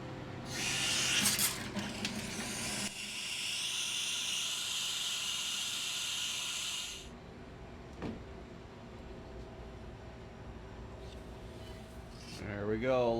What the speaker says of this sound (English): Let me relieve the pressure from the freeze dryer